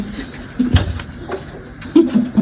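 Sirazi and Gorra breed pigeons coo nearby in a few short, low throaty bursts over quiet background noise.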